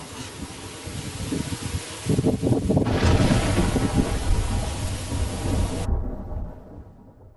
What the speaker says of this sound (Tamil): புயல் கரையை கடந்துருச்சு